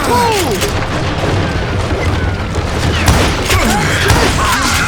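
Dense, overlapping gunfire and booming blasts in the Western shooter Call of Juarez: Gunslinger, a loud continuous barrage with sharp cracks rising over a rumbling battle bed.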